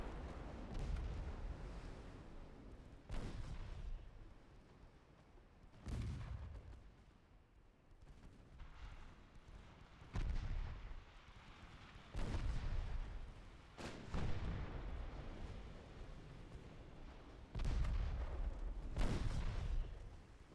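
Naval artillery from warships in Ultimate Admiral Dreadnoughts booms again and again, about a dozen heavy low-pitched blasts spread out over the span, each rumbling and fading between shots, fairly distant and muffled.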